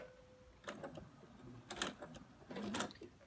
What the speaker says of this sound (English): I am going to turn it and sew down to the other side here, and that's capturing my piece of elastic